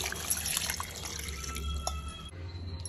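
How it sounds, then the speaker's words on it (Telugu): Water is poured into a bowl of guava leaves, a quiet, close trickle with light drips and splashing. "ఇప్పుడు ఇందులోకి నీళ్ళు యాడ్ చేసుకోండి"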